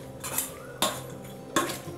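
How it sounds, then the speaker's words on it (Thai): Thai glass noodle salad with dried shrimp is tossed in a bowl, and the utensils give three distinct clattering scrapes about three-quarters of a second apart. The sound is close and crisp, with quieter rustling between the strokes. "ก็คลุกเคล้าส่วนผสมให้เข้ากันเลยครับ"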